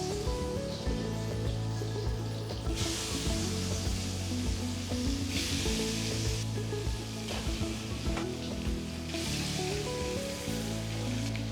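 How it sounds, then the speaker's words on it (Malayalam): Chicken kalmas frying in hot oil, a steady close crackling sizzle that runs throughout with bursts of brighter spitting, with no one talking. "ചൂടായ എണ്ണയിലേക്ക് ഇടാം."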